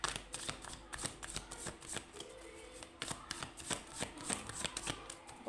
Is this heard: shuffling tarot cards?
yes